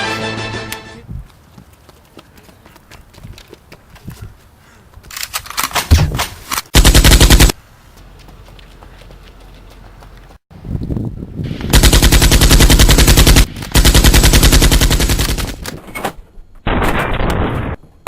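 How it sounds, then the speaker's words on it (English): Bursts of rapid movie gunfire pelt Superman in a film scene, with loud sustained volleys separated by quieter stretches and a short final burst. "In the previous scene you saw Superman get bombarded with bullets."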